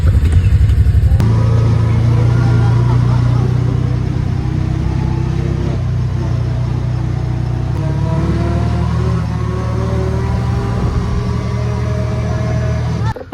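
A farm buggy's engine runs steadily at close range with a loud, droning hum. Its pitch rises and shifts as the buggy drives, with faint voices partly underneath.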